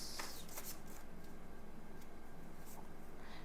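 Tarot cards being shuffled by hand, a soft continuous riffling and sliding of card stock that stays close and steady for a few seconds with no voice over it.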